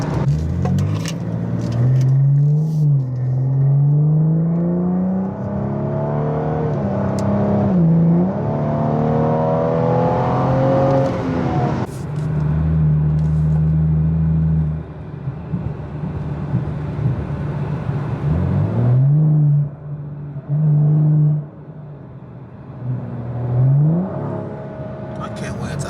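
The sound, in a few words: BMW 435i with catless downpipe and muffler delete revving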